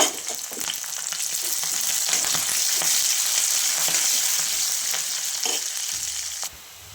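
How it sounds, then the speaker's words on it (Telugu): Onions frying with curry leaves and fenugreek in hot oil, a dense, steady crackling sizzle with intermittent stirring scrapes, no one speaking, dropping abruptly to a quieter hiss near the end. "ఆనియన్స్ కాస్త ఫ్రై అయ్యాక కరివేపాకు వేసుకోండి ఆ తర్వాత మెంతి కూడా వేసుకోండి"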